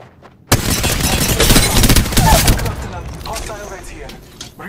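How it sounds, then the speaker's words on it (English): Enemy gunfire in Apex Legends erupts suddenly in a loud, dense volley of rapid shots and booms, then fades into scattered lighter noise as the shooting dies down. "The enemies are shooting at me."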